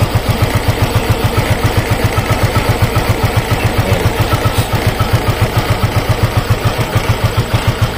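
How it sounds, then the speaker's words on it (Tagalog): A Yamaha Mio Gear scooter engine idles very low and close, near stalling, with a steady, rapid putter that pulses evenly throughout and never rises in revs. "Hindi naman namamatay pa sa ngayon, pero sobrang baba ng minor niya."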